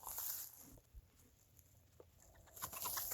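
A hen kept as a backyard chicken, injured and being cared for, gives soft, scattered clucks at moderate distance over a steady hiss of background noise, with a few brief rustles in between.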